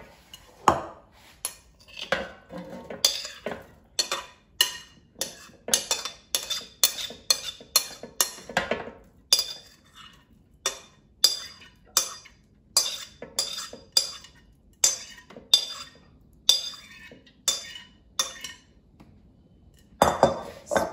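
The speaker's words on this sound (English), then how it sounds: "now let's toss it to coat with oil and seasonings" Diced frozen potatoes O'Brien with peppers clatter against a bowl as they are tossed with oil and seasonings, a steady run of sharp clinks and scrapes, close by and alone.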